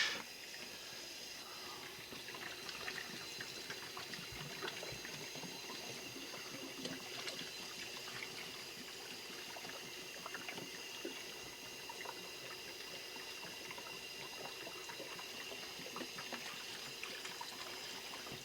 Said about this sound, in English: Yes, I'm emptying the whole bottle.